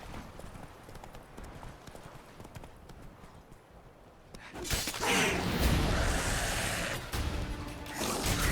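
Roach, the horse in The Witcher video game, breaks into a loud, close gallop partway through, with rapid clip-clopping hooves that keep going steadily to the end.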